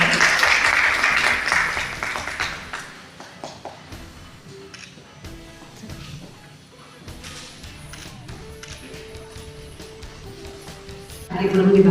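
A school welcoming-ceremony audience bursts into loud applause for a guest, which fades after a few seconds into quieter room sounds with speech before clapping briefly swells again at the end.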